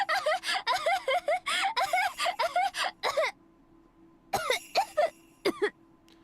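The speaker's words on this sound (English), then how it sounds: "I kept laughing until it turned into a cough." Harsh coughing bursts break out after laughter, a dense run of rapid fits followed by a pause and a few shorter, separate coughs, close and fairly loud.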